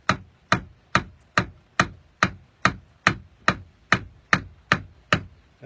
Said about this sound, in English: let's tap it a bit more up to the